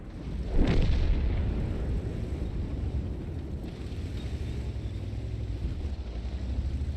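A single heavy boom from a high-explosive tank shell in a tank video game, a sharp close blast that fades into a low rumbling engine drone.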